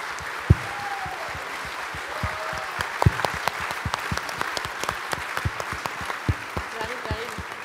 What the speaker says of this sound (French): Merci Hélène, on applaudit.